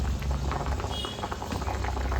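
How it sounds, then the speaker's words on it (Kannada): Potatoes boil in a pot of water on a stove, giving a steady, dense bubbling and rumbling that runs evenly through the whole stretch, close and moderately loud with no talk. "ಒಲೆ ಮೇಲೆ ಇಟ್ಟು ಆಲೂಗೆಡ್ಡೆನ ಬೇಯಿಸ್ಕೊಳ್ಳೋಣ."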